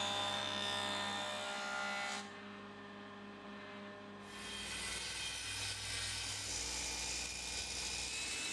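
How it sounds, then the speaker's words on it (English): Wooden rails being flattened and squared on a jointer, its loud motor humming steadily while the cutter roars through each pass, dipping briefly between cuts. "I'm flattening and squaring two adjacent sides"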